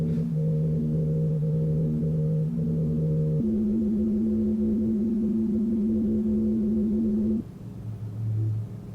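Low, steady droning seismic hum from an Antarctic ice shelf shifts between a few sustained pitches in long held tones, dropping into a quieter rumble near the end.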